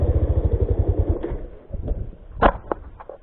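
A motorcycle straining on a rough hillside track, its engine chugging in a fast, loud, close pulsing rhythm that fades out, followed by scattered clatter and knocks.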